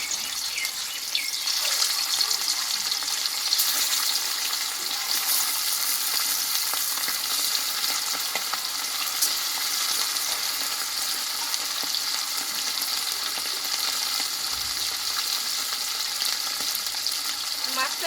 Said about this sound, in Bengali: দেখো তেলটা কিন্তু গরম হয়ে গেছে এবার মাছটা আমি ভেজে নেবো